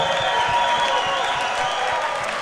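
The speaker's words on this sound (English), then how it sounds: "How about a round of applause for Keisean and Josiah Deguara tonight?" Studio audience applause for Packers players Keisean Nixon and Josiah Deguara at a live show, a brief, steady patter of clapping with a light crowd murmur, fairly even in level, over a constant tonal hum.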